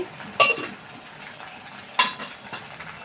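Vadas made from cooked rice fry gently in low-heat oil, a soft steady sizzle broken by two sharp metallic clinks of a utensil against the pan.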